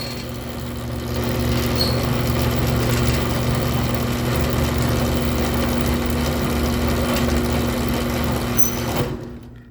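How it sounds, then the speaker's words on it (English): A trolley-type garage door opener motor running steadily with a constant hum and mechanical drone for several seconds before cutting off at the end. "this is a trolley opener. It only needs to have one setting for which way the motor spins."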